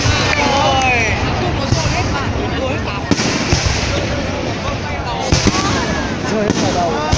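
Lunar New Year fireworks for the Year of the Dog 2018 burst over Hoan Kiem Lake in Hanoi in a loud, continuous barrage of crackles and booms, with a crowd chattering and exclaiming throughout.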